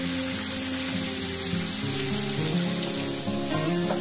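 A pink salmon head fries in hot oil at about 320°F, giving a steady, dense sizzle that runs throughout with faint tonal sounds underneath and no talking.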